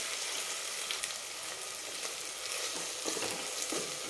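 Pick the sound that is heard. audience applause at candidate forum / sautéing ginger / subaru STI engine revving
sautéing ginger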